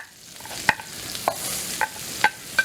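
Diced red peppers and sweet onions sizzling in butter in a pot for Cajun mac and cheese, a soft steady fry under several sharp clacks of a spoon stirring against the pan, with no one talking.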